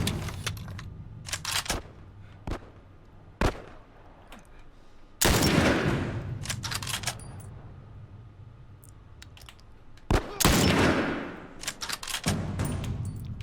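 Gunfire in The Last of Us video game, sharp loud shots in scattered single bursts with ringing tails, over a low ambient game background.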